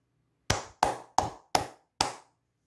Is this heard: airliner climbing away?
no